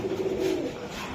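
A racing pigeon gives a single short, close coo, a soft low rolling note lasting under a second. No voices are heard.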